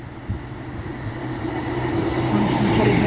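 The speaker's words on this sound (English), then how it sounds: "I was lucky enough when I was waiting to watch a train come through" An HST train comes through a station in the west of Ireland, a low rumble building gradually from faint to moderate over a few seconds.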